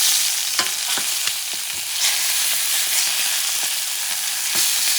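Chicken pieces frying in a pan after being flipped, a loud, steady sizzle broken by scattered sharp pops and crackles throughout, with no talking.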